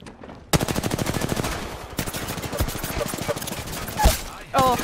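Rapid automatic gunfire in a video game, loud and close, sustained bursts of evenly spaced shots with short breaks, while a player talks over the shooting.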